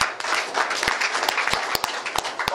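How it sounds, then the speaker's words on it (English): Press conference audience breaking into a round of applause after a speech about an election result, dense steady clapping from a crowd with a few sharper individual claps. "Another round of applause for him."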